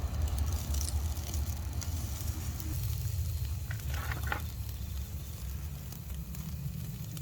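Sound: beef sizzling on charcoal grill

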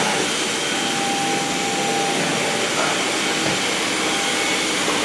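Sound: Samsung Jet Light VS70 cordless vacuum cleaner running

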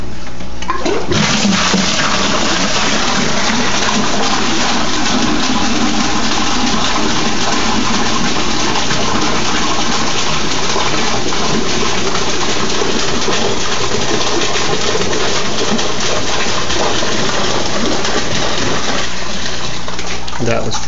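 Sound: geyser pump pumping water in an aquaponic system

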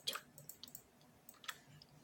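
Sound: chewing food

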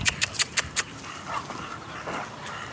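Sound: puppy panting

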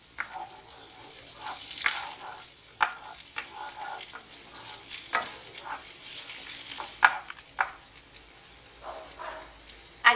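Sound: onion sautéing in a pan for huitlacoche

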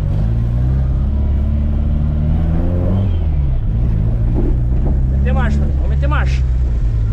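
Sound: Chevrolet Chevette car driving on a rough road

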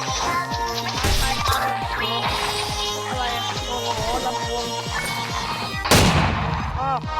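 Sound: gunfire in a Roblox stick battle video game

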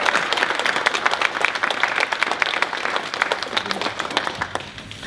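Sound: audience applause

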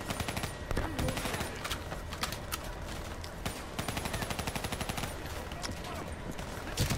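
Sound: machine gun fire in Black Ops 3 video game

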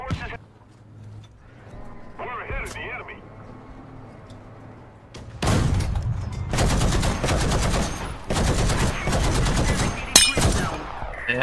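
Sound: 50 cal machine gun firing on M8 LAC tank, video game

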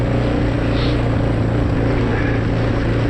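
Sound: quad bike engine driving uphill

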